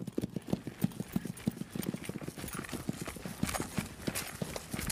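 A horse's hooves clip-clop in a steady, even rhythm on firm ground, close and continuous for several seconds, with faint background noise and no talk.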